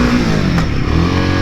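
A Royal Enfield Himalayan 450 motorcycle riding a muddy trail, its engine droning loud and close with a brief rise in revs partway through a short burst.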